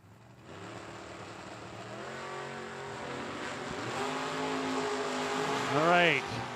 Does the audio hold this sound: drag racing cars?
yes